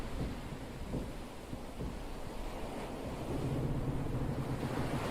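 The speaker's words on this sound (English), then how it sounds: "You can hear the ship groaning." Low rumbling groans and creaks from the Titanic as she sinks in a video game, a continuous deep roar like wind and surf, steady and fairly loud with no talking.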